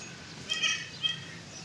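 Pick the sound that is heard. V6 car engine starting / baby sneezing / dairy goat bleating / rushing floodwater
dairy goat bleating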